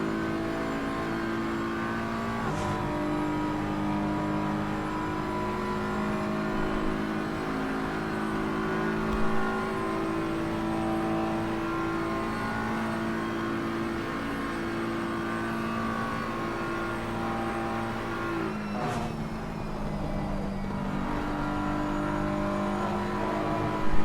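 BMW GT3 race car engine heard on board in a racing video game, a continuous high revving drone with shifts and rises in pitch as it accelerates, loud and steady without talk.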